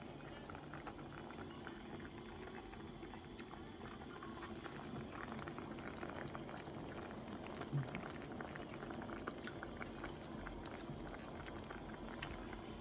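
An oyster doteni hot pot with shiitake, shirataki, leeks, napa cabbage and tofu bubbles at a gentle simmer, giving a continuous soft burbling with small pops, quiet and close, with no talk.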